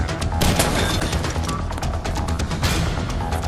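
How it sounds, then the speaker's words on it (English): Gunfire in the Dead Rising zombie game: dense, continuous rapid shots with booming impacts, loud and sustained throughout with no talking. "Someone's shooting from the floor above."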